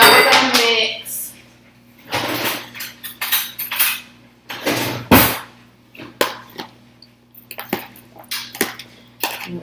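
A cucumber, tomato and red onion salad being tossed in a bowl, loud irregular clattering and scraping of utensils against the dish in uneven bursts, close and dry, with no voice.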